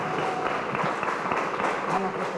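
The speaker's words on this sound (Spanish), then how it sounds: "vamos a darnos un aplauso a todas y todos los que" An audience at a Mexico City socioambiental forum claps together in a short, continuous round, fairly loud and even, with a little voice mixed faintly underneath.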